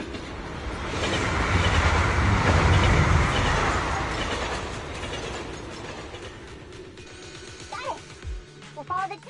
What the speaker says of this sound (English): The train will soon pass.